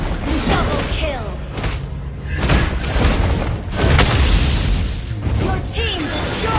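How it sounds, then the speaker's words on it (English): A turret being destroyed in a video game, heard as loud, booming explosions and crashing impacts layered over continuous game sound effects. "Your team destroyed the turret."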